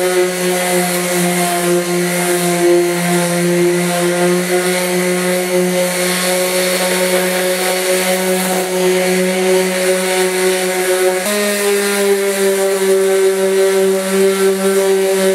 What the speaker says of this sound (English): my Ryobi osculating sander with a 80 grit sandpaper